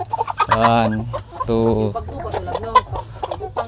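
RTL hybrid chickens cluck in bursts, close and fairly loud, with people talking and counting aloud alongside during a chicken loading day in Asturias, Cebu.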